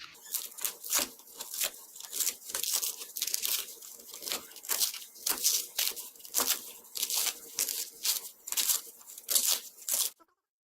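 A screwdriver pries and tears fibrous husk off a coconut in a burst of crisp, crunchy rips and crackles, repeating in quick irregular pulls at close range with no talking, then stopping abruptly.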